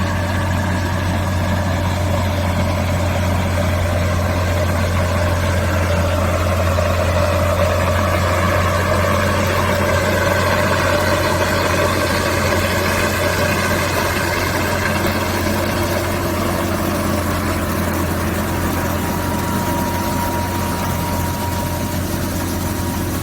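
A large tracked farm tractor pulling seeding equipment and a grain trailer idles with a steady low diesel drone and constant hum, loud and unbroken throughout with no talk.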